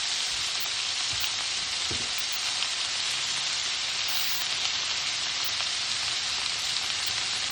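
Chuck eye steaks sizzle loudly in a frying pan, a steady dense crackling hiss that runs unbroken throughout with a couple of faint low knocks near the start.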